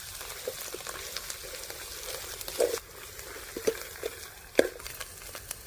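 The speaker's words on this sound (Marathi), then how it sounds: "वाटण आपण छान तेलामध्ये परतून घेऊया" Ground masala paste with black masala frying in hot oil for a chicken curry, a low steady sizzle with a few soft stirring clicks and taps, no talking.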